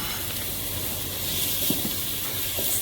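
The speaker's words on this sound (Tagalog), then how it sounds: "So, let's put the garlic, saute garlic" Garlic and onion sauté in a hot pan, a continuous bright hiss with a few soft clicks from stirring, fairly loud and close, with no talking.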